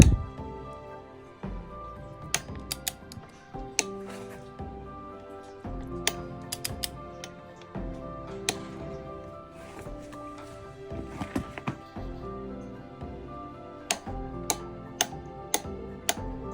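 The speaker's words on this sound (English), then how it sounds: "Now you can hear the torque wrench clicking." Sharp mechanical clicks from a torque wrench set to 30, tightening the front wheel of a BMW R1250 GS motorcycle, scattered irregularly over a quiet background with faint metallic creaks and handling noise.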